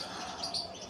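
A pigeon in the early morning, soft brief calls sitting faintly in the background of a quiet moment, barely rising above the room tone.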